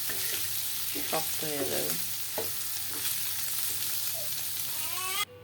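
Eggs frying in oil in a pan give a constant bright sizzle, with occasional clinks of a utensil stirring, faint and steady, a brief spoken phrase partway through, and a sudden drop in level at the end.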